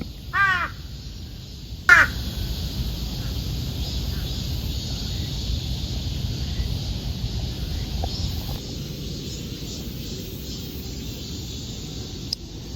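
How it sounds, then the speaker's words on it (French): A gang of crows caws twice in short harsh bursts early on, then a steady outdoor background hum of city traffic and distant aircraft fills the rest, with no further calls standing out. "Je suis posé avec un espèce de gang de corbeaux."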